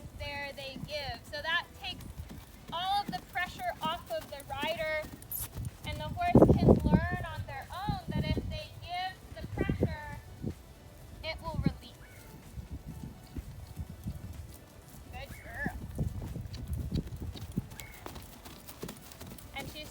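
A horse trotting on a lunge line in side reins and a Pessoa lunging system gives steady rhythmic hoof clip-clops, with occasional snorts, under ongoing talk from a handler.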